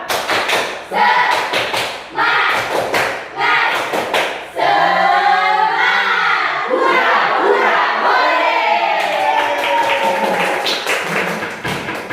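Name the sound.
class doing a rhythmic spirit clap with cheers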